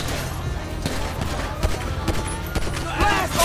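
Gunfire rattles in the video game GTA 5, with loud repeated shots and bursts close up, mixed with other game effects.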